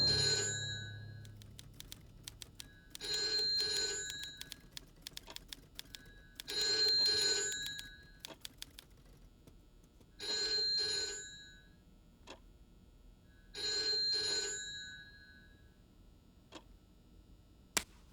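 Telephone in the Elephants Dream animated film ringing in five regular electronic bursts separated by quiet gaps, with faint ticking between rings.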